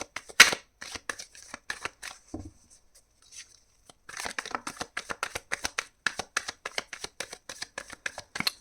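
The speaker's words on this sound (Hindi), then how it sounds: "let's shuffle 3 cards" A deck of tarot cards is shuffled by hand in quick, crisp riffling bursts, close and clear, stopping for a short quiet gap before the rapid flicking resumes for several more seconds.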